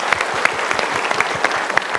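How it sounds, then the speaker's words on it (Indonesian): A studio audience claps briefly, the applause dense and lively from start to finish. "Kita berikan tepuk tangan."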